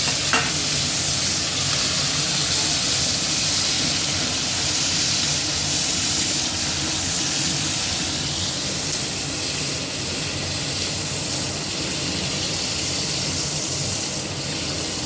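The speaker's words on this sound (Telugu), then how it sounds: "లైట్గా ఫ్రై చేసుకున్నాము." Onion and capsicum cubes frying lightly in butter in a kadai for paneer curry, a steady, close, even sizzle holding throughout with occasional stirring and no talk.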